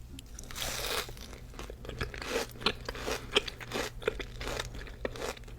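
Bites into a chewy Dubai chocolate cookie dipped in chocolate syrup give repeated close crunches and chewing, irregular and crisp, with no talking.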